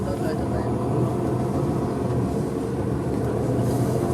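A smaller passenger airliner of about 100 seats at Düsseldorf airport produces a loud, steady broadband roar that holds evenly throughout, with faint voices underneath.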